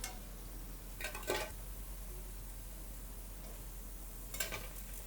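Chicken vadas deep-frying in hot oil, a steady soft hiss of bubbling with a couple of brief scraping clinks from a utensil against the pan, faint and without talk.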